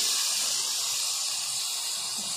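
Chicken pieces frying in a pan for a chicken noodle dish give a steady, close sizzling hiss that runs alone and unbroken throughout.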